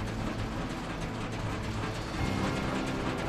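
A KRONE Bellima baler starting its twin twine wrapping, a dense continuous mechanical rattle of gears and ratcheting drives, steady and fairly close with no pauses.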